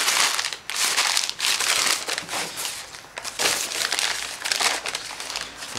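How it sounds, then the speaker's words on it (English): Sheets of newspaper are crumpled by hand in close, loud bursts of crackling and crinkling, repeated rhythmically with brief pauses between squeezes, with no talking. "Now I'm going to crumple up the newspaper."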